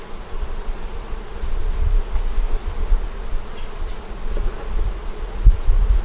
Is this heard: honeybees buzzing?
yes